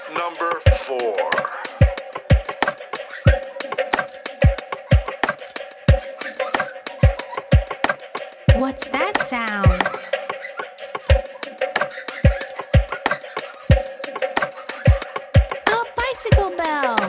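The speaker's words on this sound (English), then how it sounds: "Bicycle bell. You got it." A bicycle bell rings in repeated bursts of bright metallic dings against a steady musical backing in a children's song, with a voice speaking briefly in between.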